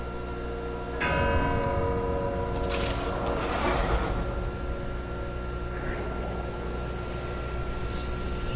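A bell rings in the Surface 3 video game, a single clear metallic strike with a ringing tone that lingers and slowly decays over steady ambient game hum.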